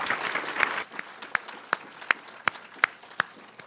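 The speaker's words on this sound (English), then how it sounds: "Please join me in giving all of our students a round of applause" An audience at a university research-presentation competition finals applauds the students: dense clapping for the first second, then thinning to a few scattered, sharp individual claps.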